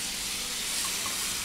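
Peas tipped into a hot risotto pan with butter, mushrooms and asparagus make a soft, continuous sizzle and hiss at low volume.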